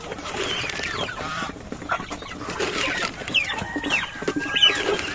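Chickens and turkeys cluck and squawk together at feeding time on a small farm, a dense, busy chorus of overlapping calls close by with a few sharper cries.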